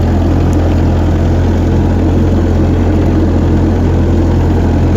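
An old Massey Ferguson F40 tractor engine runs at a steady idle outdoors at night, a loud, even low rumble with a throbbing pulse throughout.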